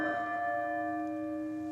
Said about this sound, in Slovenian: sicer pri zvonu slišimo neko višino tona